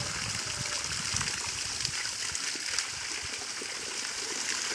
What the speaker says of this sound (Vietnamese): nước chảy xuống như dòng suối á